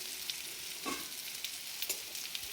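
Pumpkin pieces steaming in ghee in a pan sizzle softly and constantly while a spoon stirs and turns them, giving a few scraping knocks against the pan.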